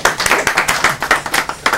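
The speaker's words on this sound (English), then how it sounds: "We should clap for you." A small audience on a lab tour claps in a quick, fairly even rhythm, close and distinct, with no talking over it.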